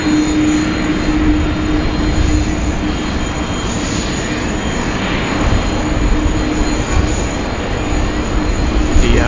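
A jet airliner at Sydney Airport, a loud steady roar of engines with a constant tone running throughout, heard up close for several seconds with no talk over it.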